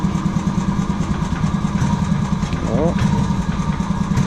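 A Cushman Truckster engine idles close and loud with a steady, throbbing chug, and a brief voice cuts in partway through.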